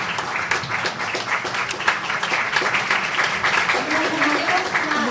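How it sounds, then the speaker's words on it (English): A crowd applauds steadily, the clapping dense and continuous, with some voices mixed in beneath. "Please keep them a good time with applause."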